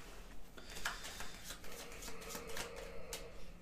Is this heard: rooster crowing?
no